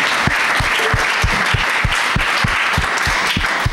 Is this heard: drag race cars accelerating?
no